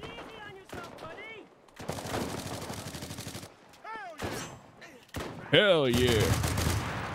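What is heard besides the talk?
gunshots in the video game Enlisted, Pacific War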